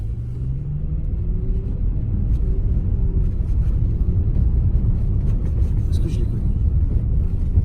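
A service car drives past with a steady low engine rumble and road noise that swells slightly and holds, while someone speaks French over it.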